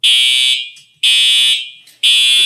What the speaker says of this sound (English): this is a Simplex TrueAlert going off the hotel